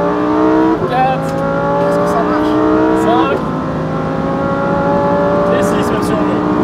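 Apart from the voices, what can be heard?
Lamborghini Huracan STO accelerating on track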